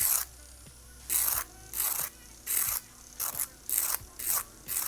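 A hand file rasps in short, regular strokes on fingernail edges, about eight quick scraping passes separated by brief pauses, close up and clear.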